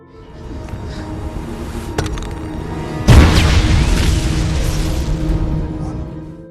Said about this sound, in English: he asks Kim to throw a grenade into a safe area outside the window